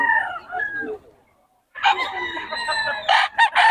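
A rooster at a market in Bocaue crows loudly and close by, long and drawn out, followed by a few shorter clucking calls.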